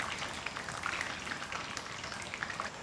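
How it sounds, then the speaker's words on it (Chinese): Eggplant pieces deep-fry in hot oil over high heat, giving a dense, continuous crackling sizzle with fine popping bursts, steady and close throughout. "用大火给它多炸一会儿，把它炸至金黄，并且是酥香的"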